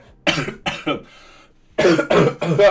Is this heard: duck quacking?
no